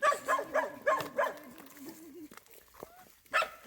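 Small puppies living in a burrow at a garbage dump give repeated high whimpers and yelps in a quick series, close by, with a short pause before one more cry.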